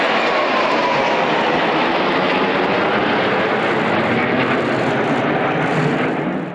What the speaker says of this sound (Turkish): Louis uçakların gösterisini ilgiyle izledi.